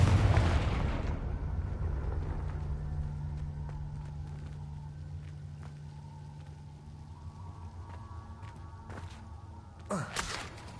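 A loud fiery blast from the Confringo spell in Hogwarts Legacy erupts at the start and fades into a long rumbling decay over quiet ambience, followed by a sharp magical burst near the end.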